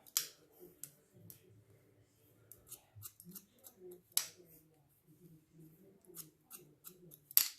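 Scissors snipping hair during a short back and sides haircut, a series of close, crisp irregular cuts and clicks, fairly quiet, with faint murmuring in the background.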